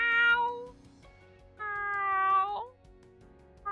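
Someone imitates a cat's meow, giving two drawn-out, forlorn, high-pitched meows separated by a short pause, loud and close with nothing else around them.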